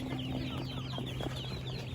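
Ducklings in a box peep continuously in high, overlapping chirps, close by, with a steady low hum underneath.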